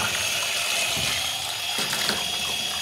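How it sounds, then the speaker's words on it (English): Running tap water rinses paint from the needle and parts of a Wagner fence and decking sprayer, a steady broadband splashing hiss that stays close and even throughout with no talking. "So start off by rinsing that through under the tap."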